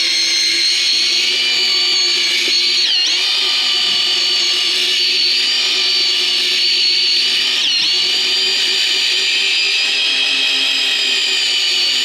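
Loud, steady whine of an electric drill with a paddle churning thin-set mortar, a continuous high-pitched motor drone with slight dips in pitch as the mixer meets resistance.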